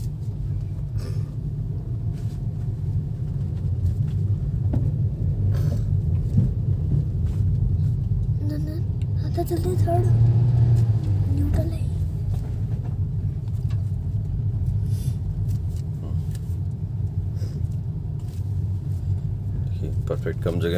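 A Hyundai Nios hatchback pulls away after turning in a tight space, its engine a steady low hum and rumble with road noise throughout the drive.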